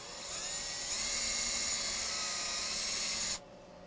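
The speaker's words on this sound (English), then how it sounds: "cordless drill, and I want to be pointing straight at the center of the spindle when I drill the hole" A high-pitched cordless drill whines steadily for about three seconds, boring a hole into a wooden birdhouse ornament, close and continuous, then cuts off abruptly.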